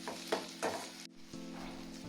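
Onions frying in a pan for a spicy egg onion fry, a steady close sizzle with a few stirring scrapes and a brief dip partway through.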